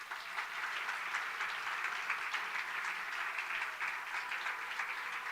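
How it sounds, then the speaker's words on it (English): Audience at a charity luncheon applauding steadily, a dense even wash of clapping that holds at the same level from start to finish with no voices standing out. "Now it's time to give everyone a huge round of applause."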